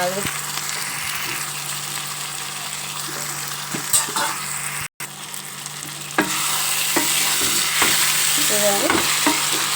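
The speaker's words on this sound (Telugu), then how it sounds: "బంగాళదుంప కూడా బాగా వేగింది కదా" Potatoes for a curry sizzle and fry in a pan while a spoon stirs and scrapes them, a continuous close hiss broken by scraping strokes that briefly drops out and then returns louder and denser.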